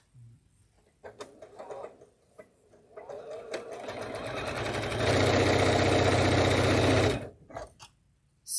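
A sewing machine in a quilting classroom starts in short bursts, then runs steadily and builds to a fast, loud, continuous whirring stitch before stopping abruptly.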